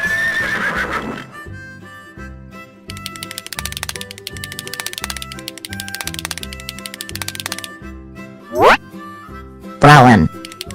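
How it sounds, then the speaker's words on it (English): A toy horse on a supermarket toy shelf gives two sharp, wavering whinnies near the end, heard over steady cheerful background music. "Horse."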